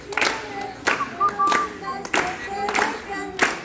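People clap along for a little clown entertaining children, a few sharp, spaced handclaps in a loose rhythm, close and fairly loud, with quiet voices between.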